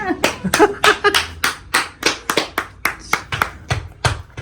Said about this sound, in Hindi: मैं कैसे खुश होकर ताली बजा रही हूँ।